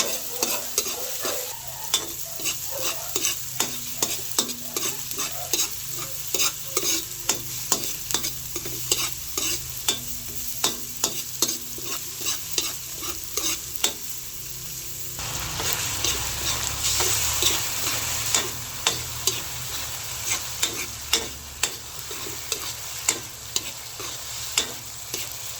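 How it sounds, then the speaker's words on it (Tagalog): Garlic and onion sautéing in a pan for spaghetti sauce, a continuous crackling sizzle punctuated by frequent sharp clicks and scrapes of a utensil stirring, steady throughout, with no talking. "At ako po ay nagigisa na dito ng bawang at sibuyas."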